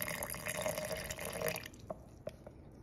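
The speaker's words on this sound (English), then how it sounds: "so I'm gonna add a little bit more water." Water being added to a sourdough starter: a soft, close trickle and splash, then a few scattered drips in quiet surroundings.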